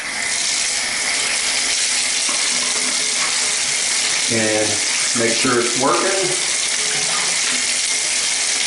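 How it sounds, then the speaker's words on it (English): Water from a bathtub tap gushes steadily into the tub as it fills, a constant loud rushing stream throughout, with someone talking briefly over it midway. "And water is filling the tub."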